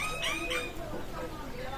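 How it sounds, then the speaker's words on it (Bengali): Chickens in a crowded poultry farm house let out clucks and short calls at moderate distance, with voices faintly mixed in. "এদিকে দেখেন আপনারা মুরগির ঘর, অনেক মুরগি তার ভিতরে রয়েছে।"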